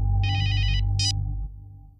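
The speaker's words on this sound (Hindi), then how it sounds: "शरद के फोन करता नहीं।" Telephone ringback while a call is placed: a short electronic ring burst and a brief second chirp over a steady low hum.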